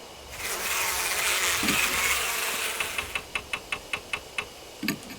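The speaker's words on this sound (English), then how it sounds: "The buzzing of bees fills the area." Giant beehive bees in the video game Death Mark give a low, swelling buzz that fades into a rapid series of evenly spaced ticking pulses, with a brief thud near the end.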